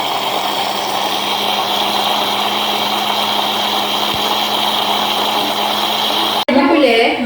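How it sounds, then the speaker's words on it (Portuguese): A kitchen blender whirs steadily as it mixes corn cake batter with condensed milk. The motor hum is loud and continuous, then cuts out sharply near the end and a brief rustle follows. "E agora eu vou bater tudo no liquidificador."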